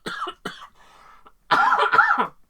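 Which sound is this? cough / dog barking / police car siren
cough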